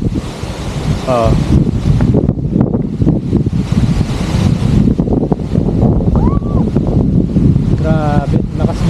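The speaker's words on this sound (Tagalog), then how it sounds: "sobrang lakas lang talaga ng hangin" Strong wind buffets the microphone at a mountain viewpoint in Canmore, Canada, a loud continuous roar with gusts rising and falling throughout, while a voice speaks intermittently over it.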